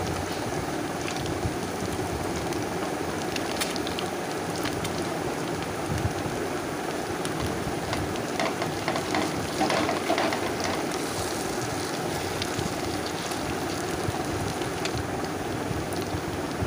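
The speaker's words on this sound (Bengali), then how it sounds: "এখন ডিমের উল্টো দিকটাকে ভেজে নিচ্ছি।" Eggs fry in oil in a pan for egg chilli after being flipped to the other side, giving a dense, even, rain-like sizzle that holds steady throughout at close range.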